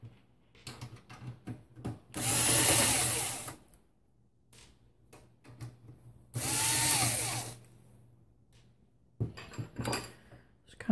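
Power drill backing out the case screws on an older-style desktop computer: two sustained whirring runs of about two seconds each, close and loud, with quiet handling clatter in between.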